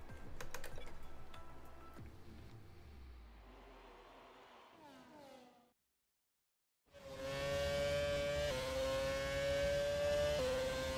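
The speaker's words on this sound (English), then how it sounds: "Just the engine screaming." A Formula 1 car engine in the racing game F1 2017 screams at high revs after a brief silence, its sustained whining tone stepping up through gear changes, loud and steady.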